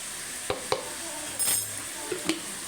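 A spoon stirs potatoes with turmeric in a frying pan, a few sharp metallic scrapes and clinks over a soft steady sizzle.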